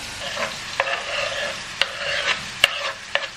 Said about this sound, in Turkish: Biraz böyle kavurayım.